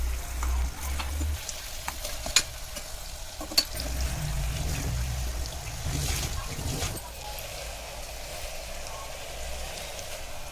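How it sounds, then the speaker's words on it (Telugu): Two chopped medium onions sautéing in a pan make a soft continuous sizzle, with a few sharp ticks of stirring and a low voice speaking underneath. "ఇలా ఉల్లిపాయలు మగ్గాలండి. 2 మినిట్స్ ఉల్లిపాయలు మగ్గనిద్దాం."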